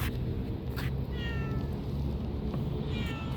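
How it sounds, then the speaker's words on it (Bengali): Street cats in an Arabic-speaking town at dusk, one meowing clearly twice, a short meow early and another near the end, over steady outdoor background noise. "ডাক কিন্তু সব দেশের একটাই মিয়াও মিয়াও"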